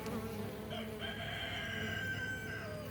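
Honey bees hum steadily around spring hives as pollen is carried in, a dense, continuous buzz from close range with a faint higher whine running through the background.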